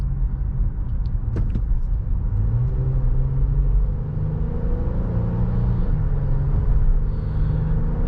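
A 2022 Honda Pilot Special Edition SUV on a test drive, its engine rumbling steadily as it accelerates, heard from inside the cabin with continuous road and tire noise and no talking.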